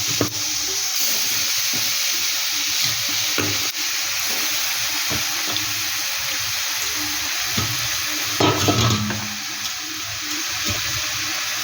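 Pitha batter hisses and sizzles steadily in a hot kadai, a loud, continuous frying crackle with occasional stirring clinks and faint water sounds, no voices.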